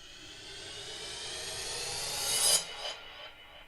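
A "full power riser" sound effect from Apple Loops, a noisy sweeping whoosh that swells steadily in loudness and brightness, peaks sharply near the end, then cuts off with a brief tail, heard alone.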